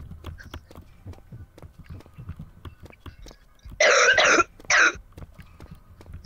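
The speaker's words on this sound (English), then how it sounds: "Every time I eat something, I cough." A person coughs after eating yogurt, three harsh bursts in quick succession standing out against a quiet room with faint low thumps.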